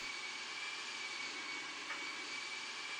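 An airplane engine in a flight simulator video game gives a steady, even drone that stays level throughout with no other sounds.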